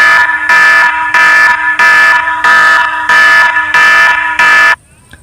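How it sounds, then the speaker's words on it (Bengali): A phone's anti-theft alarm blares close and loud in eight rhythmic, harsh buzzing pulses, each about half a second with short gaps. It then stops abruptly into near silence. "এখানে কিন্তু ফোনের কিন্তু অ্যালার্ম বেজে উঠেছে"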